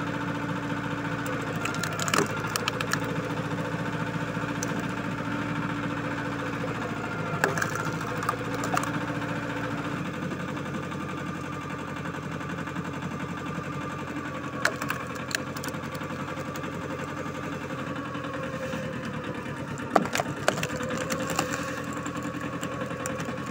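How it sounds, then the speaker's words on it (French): A micro tractor with a 20-horsepower engine runs steadily at a constant, mid-pitched drone, with a few brief clanks and knocks on top and no one speaking. "j'ai un tracteur qui fait 20 chevaux moteur"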